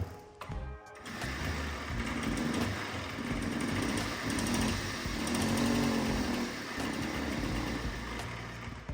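A Puch Magnum 50cc moped engine runs roughly, suspected of a scraping piston or bad bearing, a high buzzing drone that rises and falls slightly with a raspy, uneven tone, loud and close without talk.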